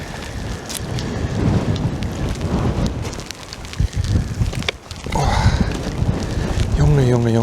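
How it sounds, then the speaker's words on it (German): Heavy rain and stormy wind at an outdoor site with Second World War relics, a steady loud wash of rain and gusts throughout, with brief speech over it. "Heute ist wieder nur Regen und Sturm."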